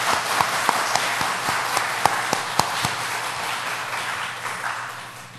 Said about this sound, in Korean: 우리 서로를 위해서 격려 박수 한번 하겠습니다